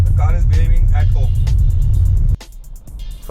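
A Hyundai Venue with an iMT transmission drives in third gear in traffic while climbing a bridge, its steady engine hum heard from inside the cabin, then dropping off sharply toward the end, with someone talking over it.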